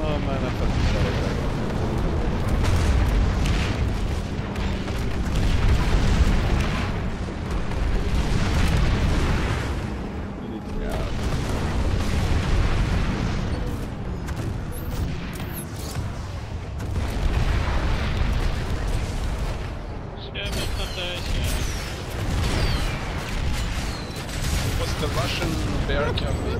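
Dense explosions and gunfire from the Planetside 2 video game during a Prowler tank fight go on heavy and continuous, with booms and bursts of fire layered over one another while a player talks.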